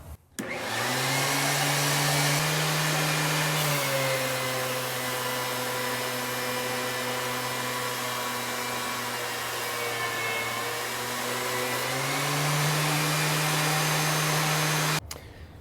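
A loud woodworking machine runs steadily with a strong droning whine, its pitch dipping briefly as wood is fed through, then rising again before shutting off.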